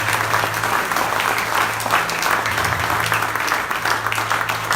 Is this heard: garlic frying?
no